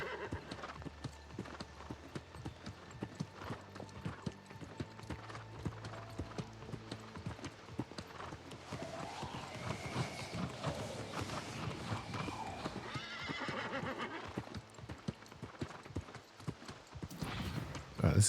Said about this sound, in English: Racing a horse.